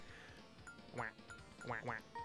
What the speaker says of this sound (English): Now no one will quack.